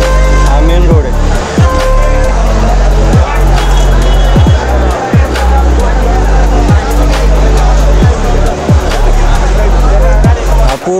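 Traffic on a busy main road beside Pune's wholesale flower market: loud, continuous engine rumble with repeated vehicles passing close by, under a constant roar of street noise.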